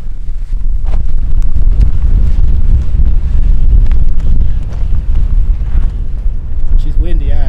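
Strong wind roars continuously across the microphone, a heavy low rumble with gusts, while a person speaks faintly underneath.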